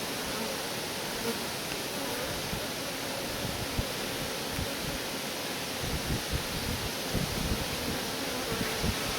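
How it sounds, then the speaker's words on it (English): Honey bees swarm around a hive frame at a backyard apiary, giving a steady, airy buzzing hum that stays even and moderately faint throughout, with no talking over it. "That's a lot of bees on there."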